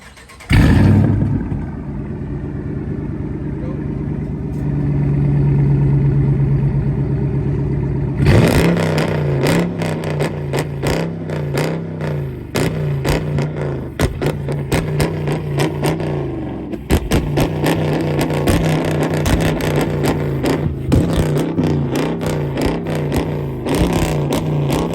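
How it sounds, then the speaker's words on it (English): A car with resonator and muffler deleted and no catalytic converters starts with a loud bark, idles with a deep burble, then revs repeatedly in sharp, very loud bursts close by. "I'm gonna let y'all know what it sound like when you got a resonator delete, muffler delete, no cats"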